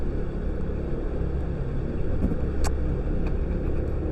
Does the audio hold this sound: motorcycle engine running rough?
yes